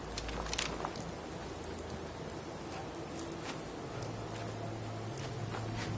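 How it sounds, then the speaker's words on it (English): Steady rain falls across an outdoor scene in the video game Fallout 4, a continuous broadband hiss with scattered drop patters, and a faint low rumble underneath toward the end; no one speaks. "Just thinking how wonderful it would be to get out of this infernal rain."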